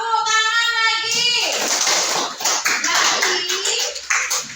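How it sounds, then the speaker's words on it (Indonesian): A classroom of children breaks into a burst of brisk, overlapping applause right after an adult voice speaks briefly. The clapping fills the room up close and trails off into scattered claps. "Tepuk tangan lagi."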